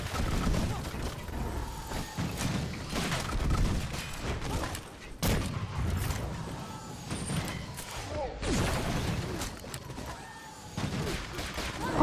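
Enemy gunfire aimed at the player in the video game Full Metal Furies: rapid volleys of shots and thuds in irregular bursts, with crashes and game effects mixed in and a voice talking over the action.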